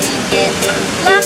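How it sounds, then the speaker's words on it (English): Mino waterfall in Japan makes a broad, steady rush of falling water, loud and close, while people talk over it throughout. "Look! Great waterfall."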